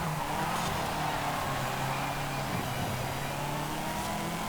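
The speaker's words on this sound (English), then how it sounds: "the mid-engine layout, the noise from the supercharger" A supercharged mid-engine car in Forza Horizon 5 drones steadily at speed with a raspy, whining tone, continuous and close, with no talking.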